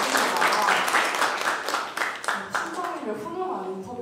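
A crowd applauds with steady clapping at an esports event match award ceremony while a voice talks over it, the clapping thinning out toward the end.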